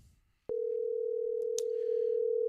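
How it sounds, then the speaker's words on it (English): A telephone line tone sounds before a phone interview, a sharp onset followed by one steady, loud continuous tone with a couple of faint clicks partway through. "Get the ringtone"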